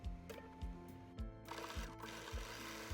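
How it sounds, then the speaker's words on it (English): A sewing machine stitches along the folded hem of a vest or dress, its motor whirring in steady bursts with a rhythmic needle chatter, close and clear with no talk. "we are going to stitch from end to end just at that folded line"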